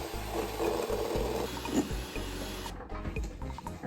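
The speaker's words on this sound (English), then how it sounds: "Whisking part 2 egg whites." Egg whites for tiramisu are whisked in a bowl with a steady, rapid mechanical whirring and rattling at moderate volume, cutting off briefly near the end. No voices.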